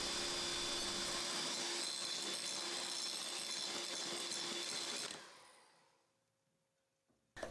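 An electric mixer whips a Zimtsterne cinnamon-star icing of egg whites, lemon juice and sifted powdered sugar. It gives a loud, steady whirring hum for about five seconds, then cuts off into near silence, with a small click at the very end.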